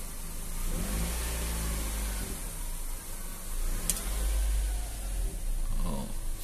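A 2014 Nissan Grand Livina engine revs up sharply twice as the gas pedal is lightly pressed, rising from a steady idle hum to a loud, close roar and dropping back each time.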